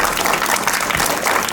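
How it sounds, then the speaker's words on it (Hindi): An audience including parents at a school play applauds loudly and steadily, dense clapping filling the whole moment without a break. "एक बार जबरदस्त ताली बजाएंगे।"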